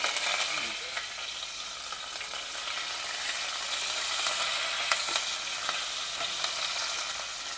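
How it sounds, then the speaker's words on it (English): Shallots sizzle in hot oil in a kadai with mustard seeds, hing, a dry red chilli and curry leaves. The frying makes a soft, continuous crackle with small pops, and no one talks over it. "Fry them till they are a bit tender."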